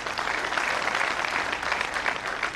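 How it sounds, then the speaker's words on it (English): Sustained applause from a large audience at an ICAI chartered accountants convocation in Kanpur, a steady even wash of many hands clapping without a break. "Mr. Mukesh Kushwa, Mr. Shyamlal Agarwal, deserve a big round of applause"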